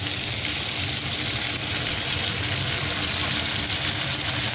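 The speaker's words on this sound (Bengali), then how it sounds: "প্রথমে আমি এটা একটু নুন দিয়ে হালকা করে ভেজে উঠিয়ে নেবো" Bitter gourd slices frying in oil with salt give off a continuous, even, close hiss and crackle throughout, with no voices over it.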